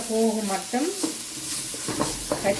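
Garlic and other ingredients for spicy crab curry sauté in hot oil, a brief close sizzle with stirring scrapes, overlaid by tonal, voice-like sounds.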